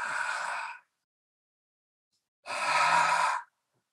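Two long breaths through the mouth during a breathwork exercise, close and clear, each an airy, sigh-like rush lasting about a second, separated by silence.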